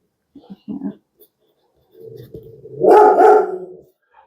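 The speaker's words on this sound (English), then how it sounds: "I'm going to let my dog out, and I'll be right back." A pet dog barks indoors in a home crafting space, a short burst of loud, close yips and barks after a few softer sounds and a voice.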